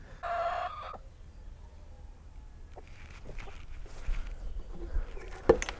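Backyard chickens on a permaculture homestead garden, with a loud rooster call up front, then scattered clucks, scratching and footsteps close by through the rest.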